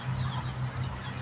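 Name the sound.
chicken clucking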